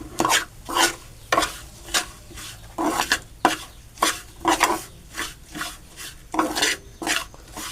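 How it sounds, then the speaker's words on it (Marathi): Semolina (rava) dry-roasts in a pan as it is stirred steadily, each sweep of the spoon making a gritty scraping rasp in a regular rhythm of roughly one stroke per half second, fairly close and clear. "आता हा मी रवा थोडासा भाजून घेतो."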